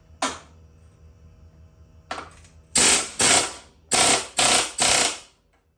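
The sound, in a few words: wrench cranking out a bolt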